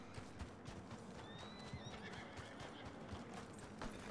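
A horse in Red Dead Redemption 2 Online whinnies in a drawn-out neigh over steady clip-clopping hooves and soft ambient game noise, with no talking.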